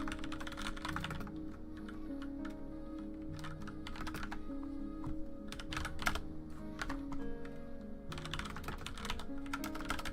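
Keys on a computer keyboard clatter in quick bursts of typing separated by short pauses, fairly quiet, over a steady low background hum.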